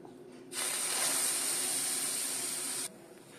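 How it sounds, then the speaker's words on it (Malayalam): Bread slices dipped in batter sizzle loudly in hot oil, a steady hiss that starts abruptly, holds for about two seconds, then cuts off, heard up close with no talking. "ബാക്കിയുള്ള ബ്രെഡുകൾ കൂടി നമുക്കിതുപോലെ ഡിപ്പ് ചെയ്ത് പൊരിച്ചെടുക്കാം"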